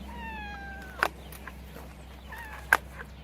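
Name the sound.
cat meowing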